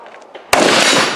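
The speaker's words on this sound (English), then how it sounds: "You're shooting through the net." A single loud gunshot on a shooting competition stage, fired through a net, cracks in suddenly after a quiet stretch with faint background noise, then leaves a sustained broadband roar and echo.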